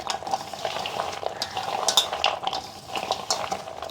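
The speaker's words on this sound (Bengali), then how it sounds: "এটাকে ভালো করে হলুদের সঙ্গে ঘষে ঘষে মাখিয়ে নিতে হবে" Raw chicken pieces being rubbed and mixed by hand with turmeric, a continuous soft wet squelching and scraping, close and moderately loud, with a few sharp light clinks and no talk.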